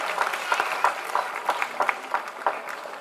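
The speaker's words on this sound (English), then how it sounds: "Please give them a big round of applause." Audience applause at a school annual day celebration, a steady wash of many hands clapping with crowd noise, moderately loud and continuous throughout.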